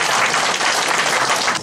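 Loud, close applause from a crowd at a Korean political celebration event for a National Assembly candidate, a dense burst of many hands clapping that cuts off abruptly near the end.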